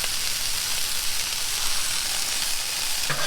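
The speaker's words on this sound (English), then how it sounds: "The meat is going to cook, and as it renders its fat out, it's going to flavor the tortillas and oil them and make them crispy" Meat frying on tortillas in oil for crispy grandma tacos, a loud, steady, hissing sizzle that carries unbroken from start to end.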